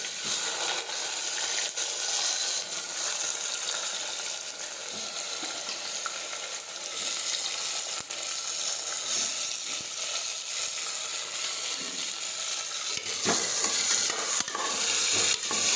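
Chopped mixed vegetables fry in a pan over mustard seeds, cumin, crushed garlic and asafoetida, a steady close hiss with occasional stirring clatter and a louder burst near the end.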